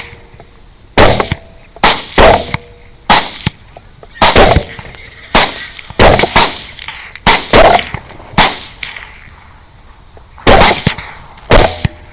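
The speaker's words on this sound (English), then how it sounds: "We're shooting at probably 30 to 40 degrees different directions." Rifle shots fired at hogs during a stormy night hunt crack sharply and close by, coming in quick pairs and short bursts with brief pauses between, about a dozen loud reports in all.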